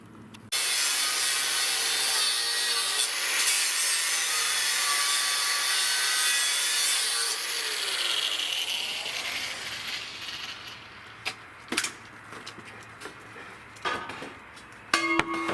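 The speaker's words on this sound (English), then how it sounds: "I got the paint and rust wire wheeled off the steel" Wire wheel grinding paint and rust off steel channel, a loud steady abrasive whine for about seven seconds that tapers into quieter scraping and clanks.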